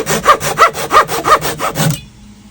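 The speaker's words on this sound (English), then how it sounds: "this really nice pull saw that I got off the Amazons" A Japanese-style pull saw cuts wood held in a vise, giving about six rhythmic rasping strokes close up before stopping abruptly into near silence.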